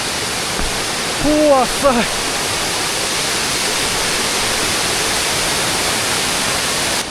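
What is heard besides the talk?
Zhaga waterfall in Munigou, Songpan, in rain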